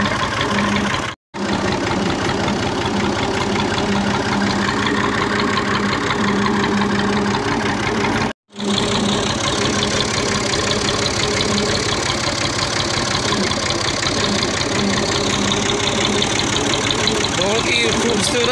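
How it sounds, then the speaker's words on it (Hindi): A farm tractor's engine runs steadily and close by as someone rides on it in a village after ploughing. The low, chugging drone continues throughout and briefly cuts out twice, while someone talks over it. "आज मैं जनाब ट्रैक्टर पे बैठा हुआ हूँ"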